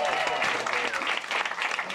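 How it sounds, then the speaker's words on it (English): A crowd at a hip-hop freestyle show applauds as the DJ returns to the stage, dense steady clapping with cheers throughout, and voices call out over it. "If we can please welcome him back to the stage with a round of applause."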